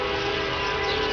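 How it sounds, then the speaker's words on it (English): An eastbound train passes in eastern Arkansas, a steady low rumble with a sustained horn-like tone held throughout this brief moment, heard alone. "that's the train. That's the 6 o'clock train,"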